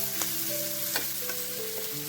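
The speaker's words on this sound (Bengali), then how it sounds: "পেঁয়াজ দিয়ে দিলাম কারণ মাছের তেলটা পুড়ে যাচ্ছিল তেলে মাছ ভাজছি" Pangas fish frying in oil with onion added, a dense steady sizzle with a few crackling pops over a short stretch, no speech.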